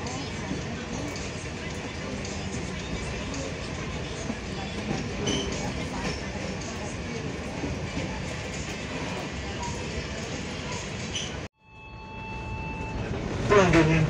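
Passenger train KA Kuala Stabas rolling on rails after leaving Taginanong station, a steady loud rumble of wheels and carriage noise that drops out briefly near the end, then returns with a cabin chime.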